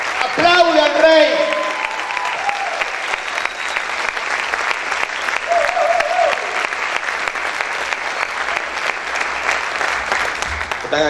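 Sustained, dense applause from a church congregation fills the space throughout, with a voice shouting over it at the start and briefly midway.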